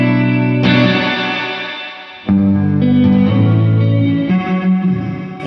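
An electric guitar plays sustained notes and chords through a reverb pedal with its distortion switched off, the ringing tones washing out into long echoing tails, with a fresh loud chord struck midway.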